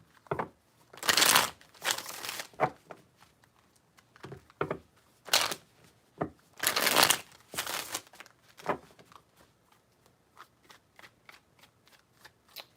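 Tarot cards are shuffled by hand in several close, crisp riffling bursts, followed by a series of soft single card taps and flicks, with quiet gaps between.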